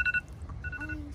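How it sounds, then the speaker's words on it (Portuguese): Phone keypad dialing: a few short electronic tone beeps in quick succession, close and clear, with faint background noise and no talk. "Tô ligando pra ele."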